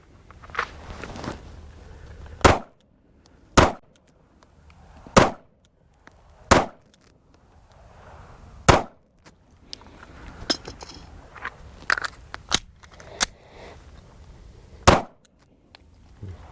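Pistol shots fire in a Bill Drill at a shooting range: loud, sharp, widely spaced reports at first, then a quicker run of cracks after a reload, each one close and dominant with faint clatter between.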